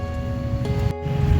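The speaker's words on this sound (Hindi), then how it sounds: "यहाँ वाटरफॉल को देखते वक्त आपको सिर्फ नीचे गिरता हुआ पानी ही नहीं दिखता" Purwa Falls, a monsoon-season waterfall, pours down in a steady, close, loud broadband roar of falling water, with no voices over it.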